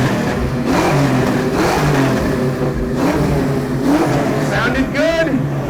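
A Ford Mustang GT with a BBK exhaust and 2.5-inch mufflers revs hard at a car show, sending out several loud, rising and falling blips in quick succession while people talk and cheer over it.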